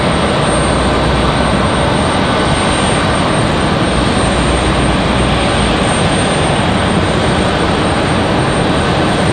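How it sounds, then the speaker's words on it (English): A FedEx Boeing 767 jet arriving at Raleigh-Durham International Airport, a steady, loud broadband roar of jet engines that holds evenly throughout with no talk over it. "Next arrival is going to be that FedEx 767 coming in from Memphis, Tennessee"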